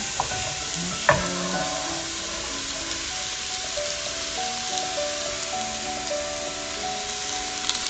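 Onion sizzles steadily in a hot sukiyaki pan beside browned meat, a continuous dense frying hiss with a sharp clatter as it goes in and soft stirring scrapes throughout.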